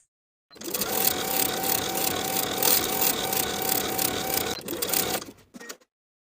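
A sewing machine stitches a hoodie seam in a long, steady, rapid mechanical whir, stopping briefly and resuming before cutting off.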